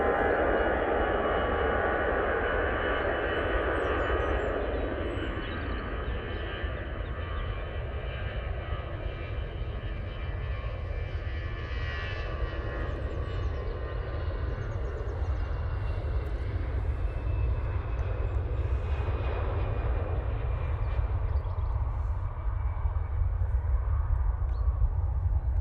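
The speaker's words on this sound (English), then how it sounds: "EasyJet A320 CEO now on the roll." An EasyJet Airbus A320ceo on its takeoff roll in fog at Manchester Airport, with a loud, steady engine roar that holds through the whole stretch, no voices.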